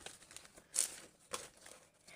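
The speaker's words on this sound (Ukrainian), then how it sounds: "Так, розпаковуємо пакетик." Brief plastic crinkling and a couple of sharp tearing rustles as a small plastic packet is torn open, close and fairly quiet.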